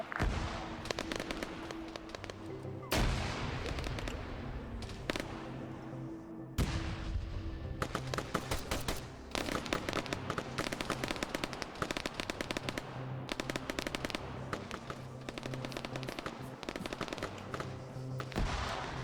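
Grenade blasts in the Arma 3 military game, a run of loud sharp bangs and cracks going off repeatedly amid rapid gunfire, nearly continuous across the whole stretch.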